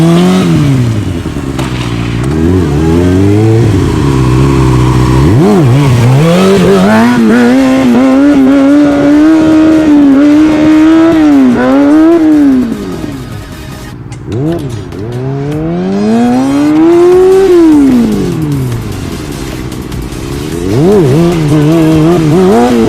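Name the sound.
motorcycle riding a wheelie with little rear brake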